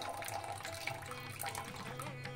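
Water poured into a bowl of chana dal (split chickpeas) in a kitchen, a soft continuous trickle and splash close by, fairly quiet and steady.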